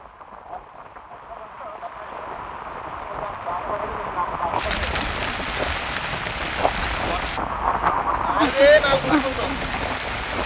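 Rain falls steadily on an outdoor fishing spot with a constant broadband patter. The sound grows louder partway through, and faint background sounds sit beneath it.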